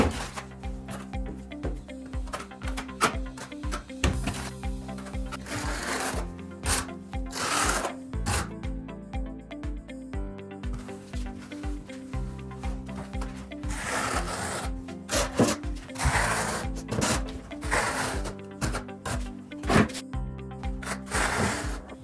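Trowel drawing grooves at a 45 degree angle through thinset while installing cement board, a steady close rasping scrape that repeats in strokes with short breaks over about twenty seconds, and no talking.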